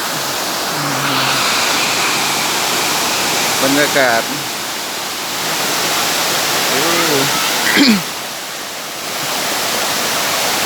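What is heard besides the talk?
Sai Yok Noi waterfall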